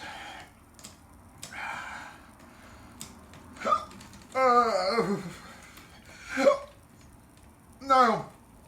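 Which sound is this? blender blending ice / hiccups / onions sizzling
hiccups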